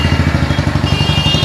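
Royal Enfield 350 motorcycle fitted with a new aftermarket exhaust idles close by with a loud, even thumping beat, a steady low rhythmic putter with no talk over it.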